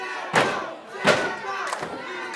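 A crowd at a live independent pro wrestling show roars in repeated surges of cheering and shouting, three loud swells about a second apart with a steady hum of voices between them.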